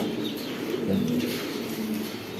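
Pigeons coo in low, steady, rolling calls over a continuous busy background, the cooing close and moderately loud.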